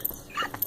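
Puppies whimper and yip in a few short, faint, high cries, close by, in under a second with no talk.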